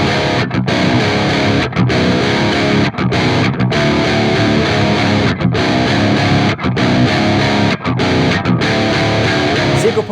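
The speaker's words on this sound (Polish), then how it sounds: "Drugi wzmacniacz, Rust, to prawdziwa fabryka brzmień crunchowych." An electric guitar plays through the Rust amp crunch setting of the Neural DSP Gojira plugin, a loud, dense distorted riff sustained almost without a break, with only brief dips in level and no voices.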